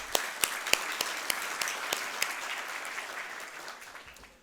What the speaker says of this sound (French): ça mérite des applaudissements quand même